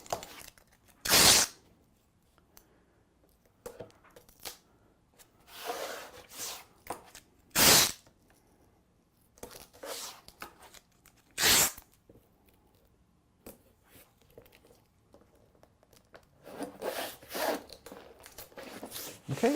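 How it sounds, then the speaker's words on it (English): Neutral-colored tape pulled and pressed along the edges of watercolor paper, with several sharp tearing rips and softer rubbing and smoothing sounds in between, close and fairly quiet with no talking. "And we'll just tape the edges of this real quick."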